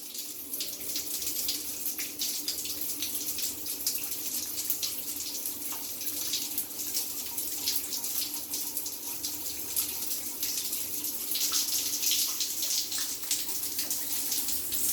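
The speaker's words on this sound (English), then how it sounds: "the water coming out the taps is really quick" Water runs steadily from a tap in an ensuite fed by a combi boiler with an SP2B shower pump, a constant close rushing flow that swells slightly louder near the end, with no talk.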